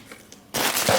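Packaging crackles and crinkles loudly during the unboxing of a wooden drop spindle, a sudden burst of crumpling that starts halfway through after a near-silent moment.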